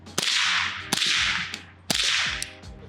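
Three suppressed .30 caliber rifle shots through a SilencerCo Scythe Ti titanium suppressor, each a sharp close crack followed by a brief hissing tail, spaced irregularly with no voices.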